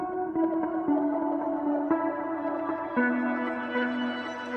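Electric guitar turned into an airy synth-like pad by a heavily processed texture preset, sustained chords ringing and swelling with long echoing reverb, several soft chord changes, no voices.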